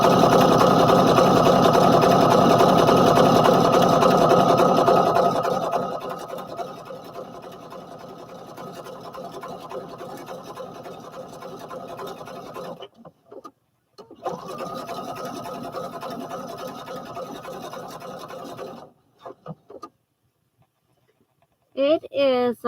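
A sewing machine stitches McCall's 7464 overalls in a steady, loud, whirring run for about five seconds, then continues more quietly in longer stretches broken by short pauses, with a brief higher sound at the very end.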